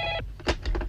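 A telephone in a 1990 Indonesian film rings briefly in a short electronic trill, a few quick pulses close and moderately loud with no voices.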